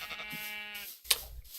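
A sheep in Minecraft lets out one clear, wavering bleat, followed by a short click-like noise.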